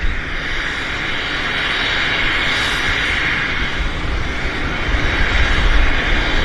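An airliner on its takeoff roll at Vancouver Airport, a broad, steady jet engine roar holding loud and close for several seconds and swelling slightly toward the end, with no talk.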